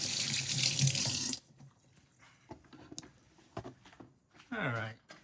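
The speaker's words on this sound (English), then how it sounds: "Wash my hands." A kitchen tap runs loudly for a little over a second while hands are washed, then shuts off, leaving scattered clinks and handling sounds, with a voice speaking near the end.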